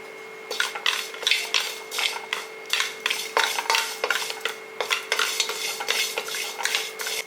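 Dry fennel seeds and turmeric fingers stirred in a hot pan for kulambu powder, giving a steady run of scraping, rattling strikes against the metal, close and fairly loud, with no talking.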